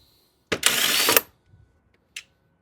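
A ratchet spins off 10mm nuts holding a Mini F56 airbox, heard as one close, loud burst of rapid clicking under a second long, then a few faint taps and a short click.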